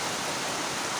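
Heavy rain pours down in a dense, steady wash of broadband hiss, fairly quiet and uniform for a brief moment with no voices over it.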